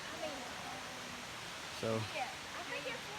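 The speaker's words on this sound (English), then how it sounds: "we're leaving the waterfall now. That's one of the biggest waterfalls I've ever saw" Ramsey Cascades waterfall in Great Smoky Mountains National Park gives a steady, even rush of falling water that runs the whole time under a person talking.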